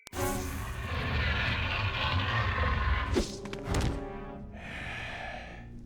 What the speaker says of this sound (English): And now a cutscene with airplane noises.